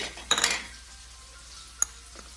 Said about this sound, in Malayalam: ഇതിനെ നന്നായിട്ട് ഇളക്കി കൊടുക്കാം